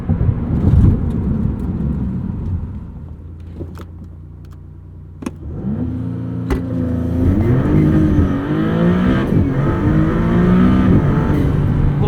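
A 2022 Maserati MC20 doing a launch-control start: a low idle, then the engine roars up through rising revs and quick gear changes, loud and close from inside the cabin.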